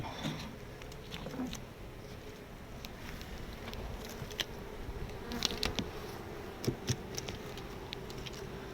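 Bees buzz steadily close by around a hive, a dense droning hum with occasional louder passes and light tapping sounds, no voices.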